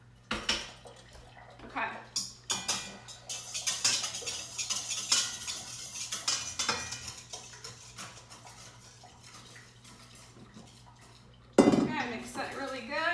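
A wire whisk clanks and scrapes around a bowl, mixing wet and dry ingredients into a dough for vegetarian lunchmeat, with quick uneven metallic strokes that stop briefly and resume; a voice speaks a single word.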